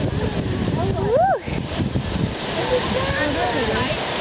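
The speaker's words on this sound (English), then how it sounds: "We just stumbled across this incredible waterfall" Rushing water from a large waterfall on the West Coast, a steady loud broadband roar filling the whole clip with wind buffeting the microphone, while a person talks and calls out over it.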